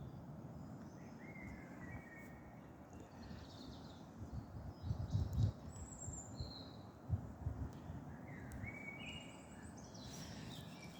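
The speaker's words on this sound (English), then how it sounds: "Listen to those birds." Birds sing faintly at a quiet camping spot, giving scattered, high chirps and trills over a low, steady outdoor rumble.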